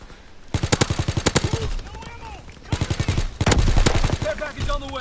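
Rapid bursts of automatic gunfire in repeated volleys in a World War II video game, loud and close, with synthetic game-like sound effects and a voice briefly under the shots.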